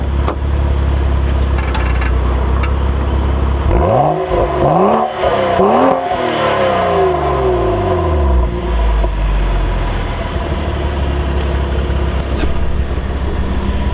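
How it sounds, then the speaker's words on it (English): A 2013 BMW 135i engine is revved close up: a steady idle, then three quick throttle blips rising and falling sharply, followed by a longer sweep back down to a smooth idle. "Listen to this thing. I'm gonna give it some revs."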